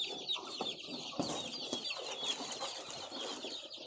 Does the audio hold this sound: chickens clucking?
yes